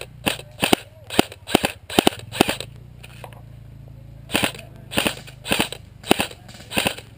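Airsoft gun shots snap out sharply outdoors in a game, two quick bursts of single cracks close up with a pause between them and no talk.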